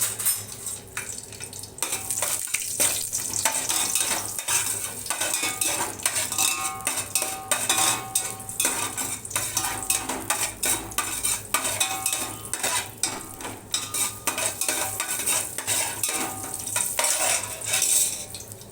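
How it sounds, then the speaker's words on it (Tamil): Whole spices, cashews and green chilli fry in a pot, the busy continuous sizzle layered with frequent metallic clinks and scrapes of a spoon stirring against the pot for the whole stretch. "பட்டை, லவங்கம், அன்னாச்சிப்பூ, பிரிஞ்சி இலை, முந்திரி, பச்சை மிளகா, ஏலக்காய் எல்லாத்தையும் போட்டு ஒரு கிளறிடலாம்"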